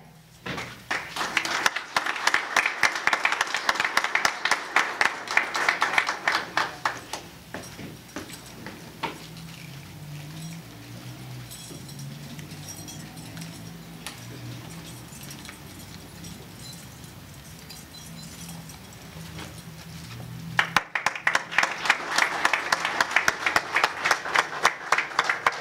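Clapping at a police ceremony presenting a new canine unit, loud and crowded at the start, fading to a quieter stretch with faint talk and shuffling, then swelling again into a second burst of applause at the end.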